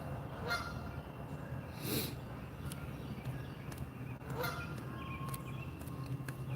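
A goose honks a few times at irregular intervals, loud harsh calls cutting through steady outdoor background noise.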